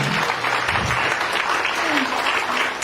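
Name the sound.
applause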